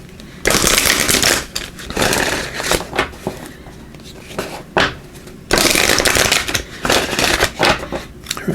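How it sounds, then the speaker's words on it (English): Numerology guidance cards being shuffled by hand in repeated riffling bursts, brisk crisp fluttering with short pauses between, fairly close and loud. "We'll also pull a numerology guidance card, at least one."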